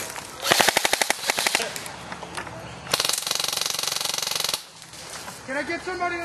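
An M60 machine gun fires in rapid, loud bursts, a fast rattling string of shots, a pause, then a longer sustained burst, followed by quieter scattered mechanical noise.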